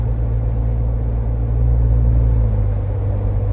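A 2021-2022 Ford Bronco fitted with a catback exhaust rumbles steadily at close range, a deep continuous drone that swells slightly midway as it moves between gears.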